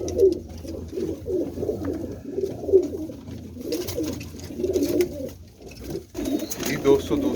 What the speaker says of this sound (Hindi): ये परवाज़ वाले कबूतर हैं